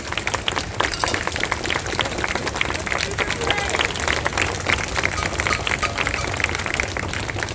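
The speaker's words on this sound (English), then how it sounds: "Let's give her another round of applause, please." Applause and clapping from a crowd at an outdoor Black Lives Matter protest march in Seattle, a dense, steady roar of hands with crowd noise mixed in throughout.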